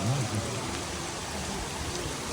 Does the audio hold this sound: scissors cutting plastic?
no